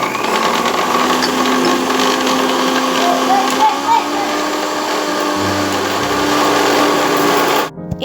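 A mixer grinder whirs steadily as it blends coriander leaves with a little water into chutney, a continuous loud motor drone that shifts pitch midway and stops abruptly near the end.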